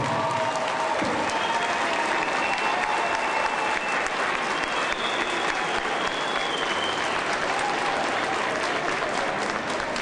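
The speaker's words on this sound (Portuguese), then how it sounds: "vamos aplaudir de pé nosso professor emérito" A seated audience rises for a standing ovation honoring an emeritus law professor at a formal university ceremony; sustained, dense applause fills the hall steadily for the whole stretch, with a faint murmur of crowd voices beneath.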